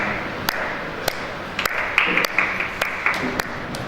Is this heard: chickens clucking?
no